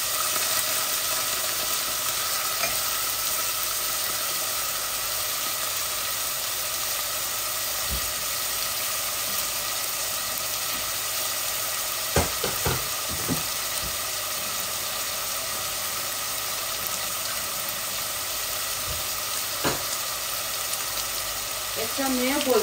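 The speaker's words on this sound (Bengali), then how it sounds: "রসুন দিচ্ছি।" Garlic sizzles steadily in a hot pan as part of a Bangladeshi-style home-cooked curry, a continuous bright hiss with a few brief clatters and faint voices underneath.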